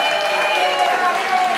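An audience applauds a band at a live music awards show, loud continuous clapping with crowd noise and a faint voice over it, held throughout the brief moment.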